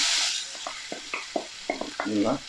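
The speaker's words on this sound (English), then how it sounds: "Fry the onion." Onion frying in a pan for an Afghani egg omelette, a steady close sizzle with a few light stirring scrapes and taps.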